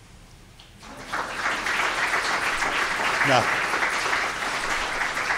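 Audience applause at a web archiving collaboration talk on new tools and models, rising after a brief quiet start into steady clapping that fills the room, with a short spoken word over it.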